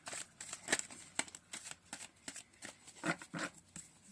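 Tarot cards are shuffled by hand close up, quiet papery riffles and flicks arriving in uneven bursts with soft slaps between them.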